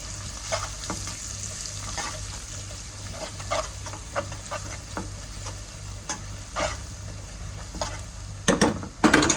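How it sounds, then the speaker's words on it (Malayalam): Coriander and chili powder are stirred in a frying pan for a Kerala-style dish, giving a steady sizzle broken by repeated scraping strokes of the spoon that grow busier toward the end, with no talking. "കുറച്ച് മല്ലിപ്പൊടി, നല്ലൊന്ന് ഇളക്കി കൊടുക്കാം."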